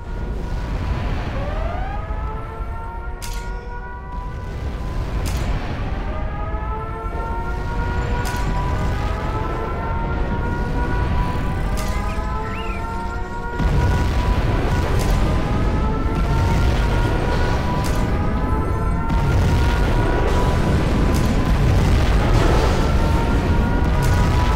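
Nuclear missile launch in the strategy game C&C Generals Zero Hour, played as China: a loud rising and falling siren wail over a heavy rumbling roar that swells into a sustained explosive boom.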